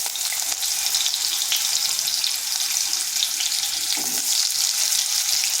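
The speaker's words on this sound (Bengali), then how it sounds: "আলুটাকে হালকা একটু ভেজে নেব, খুব বেশি ভাজার প্রয়োজন নেই।" Potato pieces fry in hot oil with black cumin, a dried chili and bay leaf, giving a loud, even, hissing sizzle that runs without pause and with no voices.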